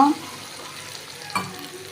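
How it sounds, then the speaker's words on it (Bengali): Chicken curry masala with spices and a splash of water is sautéed and stirred in a pan, giving a short scrape at the start and another soft stir midway over a faint, quiet sizzle. "এই যে এটাকে আমি ভালো করে কষিয়ে নেব।"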